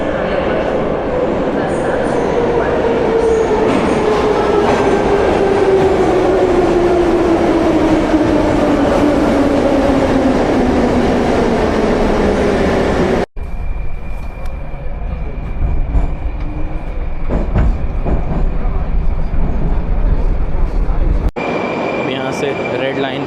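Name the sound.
metro train at a Tashkent station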